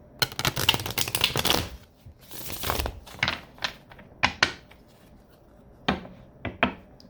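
A tarot deck being shuffled and cut: a quick riffling burst of cards at the start, then a series of separate soft slaps and flicks as cards are handled and set down, close and clear.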